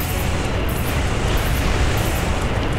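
Quartet cannons firing in the Armored Core Nexus mech game, a continuous heavy roaring blast of booming explosions that fills the whole stretch loudly, with no voices over it.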